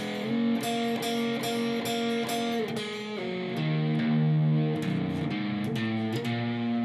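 Electric guitar slowly plays part 3 of a turnaround, with sustained single notes and chords stepping down in a steady, unhurried rhythm. The tone is lightly overdriven and close, and no one talks over it.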